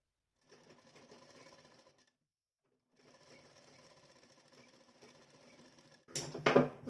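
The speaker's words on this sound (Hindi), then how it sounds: "तो अच्छे से बनाते हुए गले पर सिलाई लगा देंगे।" A sewing machine stitches a blouse neckline in two steady runs of rapid, even clatter separated by a short pause, close but soft, followed by a louder rustle of handled fabric at the end.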